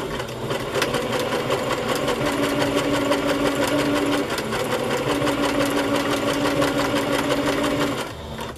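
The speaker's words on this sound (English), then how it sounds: "And now I'll just sew it on as a pocket." A sewing machine runs steadily for several seconds, stitching a fabric pocket onto a handmade circus-themed journal, its close, loud mechanical whir and rapid needle chatter continuous with a brief dip midway.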